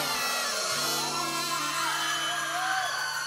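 A crowd at a live radio broadcast event shouts and whoops together in a sustained, energetic roar of raised voices.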